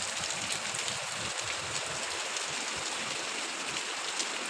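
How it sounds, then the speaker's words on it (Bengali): Rain falls steadily in a dense, even hiss with a soft low patter underneath, constant throughout and close, with no voices. "এদিকে বৃষ্টি আসতেছে"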